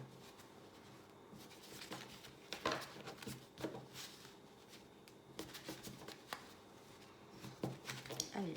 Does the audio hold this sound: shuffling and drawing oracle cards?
yes